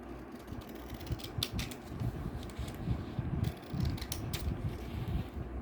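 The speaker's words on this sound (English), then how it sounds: "with the help of a scissor make strips" Scissors snip and crunch through paper close up, cutting it into strips with an irregular run of crisp clicks and rustling scrapes.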